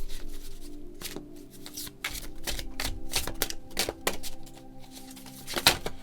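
A stack of tarot cards is handled at close range, giving a series of quick crisp riffling and snapping bursts spread over about six seconds, and nobody speaks.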